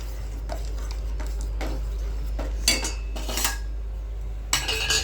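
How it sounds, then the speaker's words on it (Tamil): A spoon stirs spinach with sambar powder in a metal cooking pot, making a series of close, bright scrapes and clinks over a low steady hum, irregular in rhythm and with no speech. "போட்டுட்டு இதை நல்லா இப்படி கிண்டி விட்டுருவோம்."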